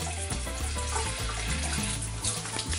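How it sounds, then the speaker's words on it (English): Running tap water rinsing salt off eggplant slices, a steady, close, full splashing stream that continues alone throughout. "As you can see, I'm rinsing off the salt now."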